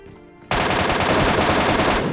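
Sustained rapid automatic gunfire from the video game PUBG Mobile bursts in suddenly after a quiet moment, a loud, dense rattle of shots continuing to the end.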